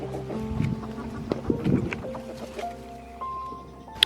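Backyard chickens clucking as they are tossed kitchen scraps, short scattered calls close by in a quiet outdoor setting.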